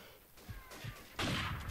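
Gunfire from the video game Call of Duty 4 during a night session: muffled bursts and thuds that give way to a loud, sustained blast of noise toward the end, with no voices over it.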